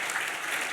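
Brief burst of audience applause for event panellists, a soft steady wash of clapping heard from a distance.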